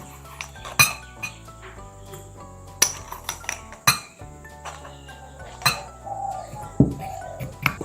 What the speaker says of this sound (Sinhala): බේකින් සෝඩා ස්වල්පයක් මේ භාජනයට දාගන්න ඕනේ